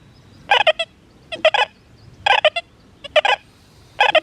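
An XP Deus 2 metal detector sounds over a nickel, repeating short warbling beeps in bursts of two or three about once a second, clear and close over faint outdoor background.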